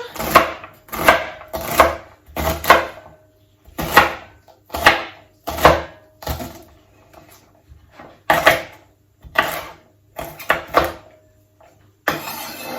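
A knife chops through a celery stalk on a cutting board, about fifteen sharp, close knocks in an uneven rhythm, each one loud and crisp with brief gaps between them.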